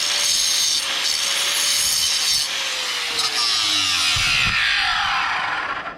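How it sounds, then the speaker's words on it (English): A power saw cuts through cultured stone veneer during installation, a loud continuous grinding rasp with a shifting pitch and brief dips as the blade works through the piece. "Always cut back your stone like this."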